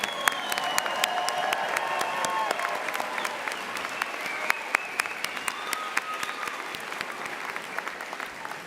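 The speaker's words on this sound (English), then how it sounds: "let's give them again the applause they so richly deserve" Steady, full crowd applause at the St. Edward's University fall commencement, dense clapping from a large seated audience filling the hall, with sharper individual claps close by and faint voices in the background.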